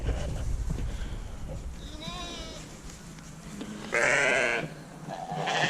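Farm sheep bleat near a field gate where cattle are also kept, with one wavering bleat and a louder, rougher one later, set over wind and background noise with someone talking at times.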